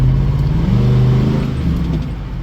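A 2001 Chevrolet Silverado LS pickup drives with a steady low engine drone and road rumble, some light rattling, loud and close from inside the cab, with no talk.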